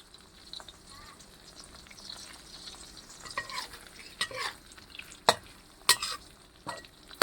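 Chili, shallots and garlic dry-roasting in a pan with Isan sausage, a soft steady sizzle under scraping stirs that grow louder toward the end with sharp spatula clacks against the pan.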